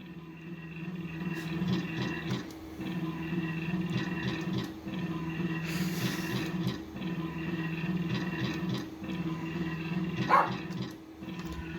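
A pet dog named Fluff barks repeatedly at night, a run of sharp, evenly spaced barks with a few yips, fairly close and alone with no talking.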